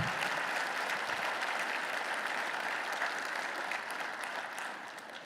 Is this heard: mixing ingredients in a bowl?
no